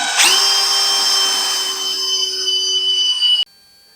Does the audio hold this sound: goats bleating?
no